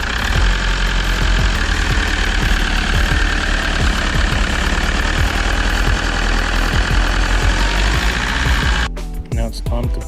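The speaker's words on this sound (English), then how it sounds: "we can start the engine and give it a good test run" A 2005-2016 Toyota Hiace engine runs after an alternator replacement, idling loud and close with a steady knocking diesel-like rumble that stops abruptly near the end, with no talk.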